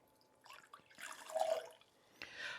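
Freshly squeezed apple cider pours into a cocktail shaker in a short, soft trickling splash that swells briefly and then tapers off, close and quiet.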